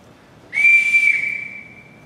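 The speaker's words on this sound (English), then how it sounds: "Everyone in this house answers to a whistle." One sharp, shrill whistle blast sounds loud and close, holding a steady high pitch for over a second before trailing off.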